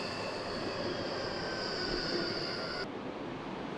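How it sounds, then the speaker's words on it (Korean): A train running underground through a city subway rumbles steadily with a sustained high metallic whine, fairly loud and alone, the whine cutting off near the end. "지하에도 열차입니다."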